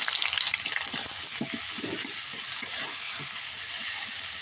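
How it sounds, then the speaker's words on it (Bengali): Chopped onions sizzle steadily in hot mustard oil with black cumin, a dense continuous frying hiss with occasional soft stirring scrapes, close and alone without talk. "পেঁয়াজটা ভালো করে ভেজে নিচ্ছি।"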